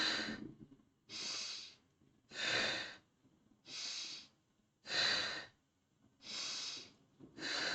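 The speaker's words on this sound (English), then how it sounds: "Breathe in, out." Deep breaths drawn in and let out during a face yoga exercise, six or seven slow rounds in a steady rhythm, each a soft airy rush close to the listener, with no talking.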